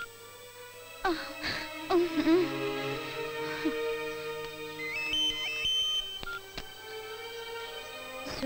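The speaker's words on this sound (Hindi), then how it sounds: "सूरज के फोन लगा के बात कर ला।" An electronic phone ringtone plays in a melodic, repeating pattern, fairly loud and close, with a few brief knocks and rustles around it.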